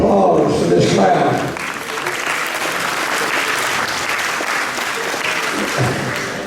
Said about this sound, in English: I think that we need to give ourselves a round of applause for this crowd.